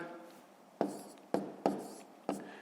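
A pen writes numbers on paper for column multiplication, heard as four short, faint, crisp strokes spaced irregularly over quiet background.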